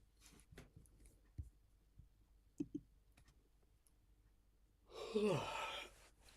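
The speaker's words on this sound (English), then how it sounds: "I'm yawning." A person yawns near the end, a drawn-out breathy exhale with a rising and falling vocal tone, after a stretch of quiet scattered clicks.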